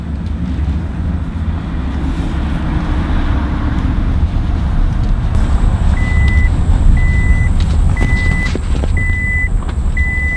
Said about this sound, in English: you're going to find that you set off the seatbelt alarm